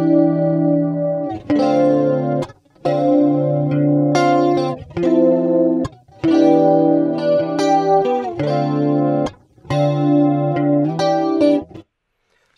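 Electric guitar chords through a compressor ring out in bursts with brief gaps, the notes tightly controlled and even in level, with a slight chorus shimmer.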